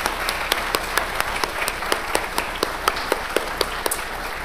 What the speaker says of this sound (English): if we clap loudly enough, they might hear us